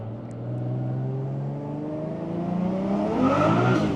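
Toyota JZX100 with a 1JZ engine revs hard from inside the cabin, with no blow-off valve. A steady loud drone climbs in pitch toward the end as the car accelerates.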